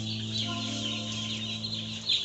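Broiler chicks at their arrival and setup in a rearing house, a dense chorus of high, continuous cheeping and peeping close by, steady throughout with a louder burst near the end.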